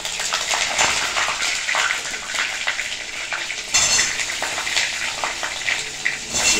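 Panch phoron spices crackle and sizzle in hot oil alongside dried red chilli and bay leaf, with irregular sharp pops and a louder burst of sizzling partway through, close and continuous.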